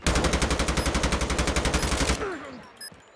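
Rapid automatic gunfire in Call of Duty Mobile, a loud, evenly spaced burst of about twenty shots lasting two seconds, then a brief quieter tail with faint game sounds.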